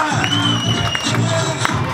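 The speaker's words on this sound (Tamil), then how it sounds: "மக்களே கரகோஷம், கரகோஷம், சவுண்ட் பத்தல." Crowd at a Pongal festival cheering, whooping and clapping, loud and sustained throughout with shouted voices mixed into the roar.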